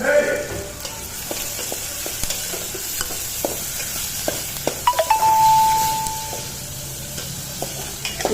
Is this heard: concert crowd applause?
no